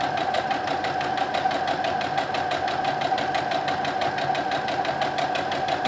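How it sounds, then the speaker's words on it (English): Sewing machine stitching down the long side of a seam while finishing edges, a steady rapid mechanical chatter with even pulsing rhythm, loud and close, running continuously on its own. "you're gonna stitch down the remainder of this long side"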